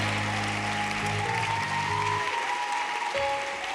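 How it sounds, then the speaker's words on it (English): An audience at a camp session applauds steadily throughout, a dense, sustained clapping with a faint tonal hum underneath. "So everybody, I want you to clap your hands for Apostle Mose and Rev Maar this afternoon"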